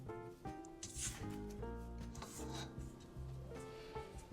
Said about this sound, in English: I'm going to scrape down the sides.